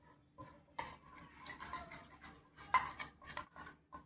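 A spoon scrapes and taps against a bowl while stirring melted chocolate, giving soft irregular clinks and rubbing sounds, close and quiet with no talking.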